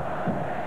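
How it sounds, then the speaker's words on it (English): A crowd at a 1989 college football game between the Miami Hurricanes and Michigan State rises in a brief, broad swell of distant roaring and cheering. "the crowd perking up here a bit as now State down by 7"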